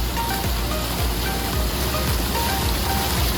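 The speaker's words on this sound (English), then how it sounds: "Hopefully you can hear me, it's loud with these fountains." Water fountains at a pool splash pad at a Disney World resort spray steadily, a dense, loud, continuous hiss of splashing water. No voices are heard over it.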